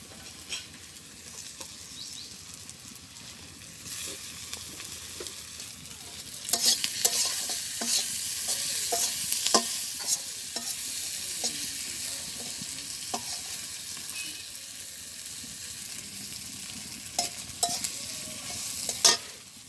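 Fish fries in a hot pan with whole green chillies in a village kitchen, a steady broadband sizzle swelling louder midway, with scattered spitting pops and utensil taps throughout; no voices.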